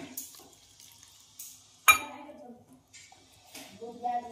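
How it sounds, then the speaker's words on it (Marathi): Water is poured bit by bit into flour batter for bobi patti papad while it is stirred, with soft splashes and clinks of a bowl. Someone talks over the kitchen sounds. "तर अशाच पद्धतीने थोडं थोडं पाणी टाकून मिक्स करत राहायचे।"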